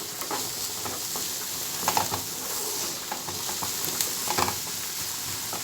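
Onion and colored peppers sizzling in a frying pan, a steady bright frying hiss with occasional stirring scrapes and crackles, close and continuous without talk.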